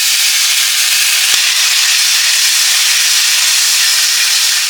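Water poured into frying spices with turmeric and salt in a pan for a lote fish curry, a loud continuous steamy sizzle and hiss that holds steady throughout, close and unbroken.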